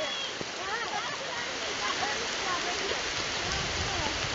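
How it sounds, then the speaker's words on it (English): Heavy rain pours down at a camp on a wet day, a steady broadband wash of rainfall on surfaces, with faint voices mixed into the constant downpour. "It is pouring out."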